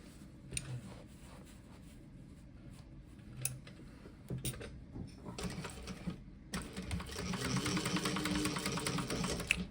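Sewing machine stitching the boxed corners of a tote bag lining with a changed seam allowance, a steady mechanical whirr that builds louder toward the end, with light clicks and handling noises.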